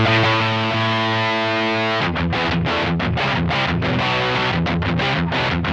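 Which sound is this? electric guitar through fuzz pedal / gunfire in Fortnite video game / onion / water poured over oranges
electric guitar through fuzz pedal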